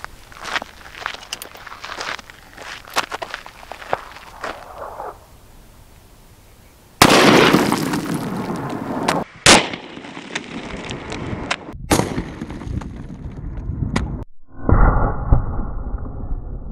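A .460 S&W Magnum XVR revolver fires at a clay block, giving a few sharp, loud blasts that cut through quieter handling noises and ring out briefly between them.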